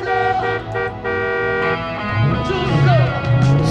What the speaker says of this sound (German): Kann ich hupen.